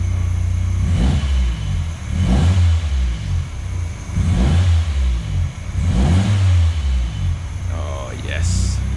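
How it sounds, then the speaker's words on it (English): A 1992 Nissan Sentra with a newly fitted engine revs loudly in repeated bursts, rising and falling about every two seconds over a rumbling idle, with a short voice near the end. "Rev her up a bit."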